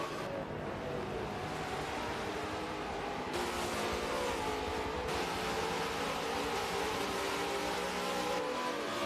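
Supercars racing cars descending the Corkscrew at Laguna Seca, a dense, continuous roar of several engines at a distance, faint overall with a constant wash of noise and no clear voices.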